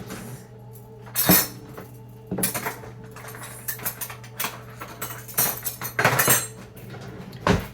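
A utensil scoops walnut butter from a jar, making irregular clinks and scrapes of metal against the container. The bursts are close and sharp, with short gaps between them and no talking.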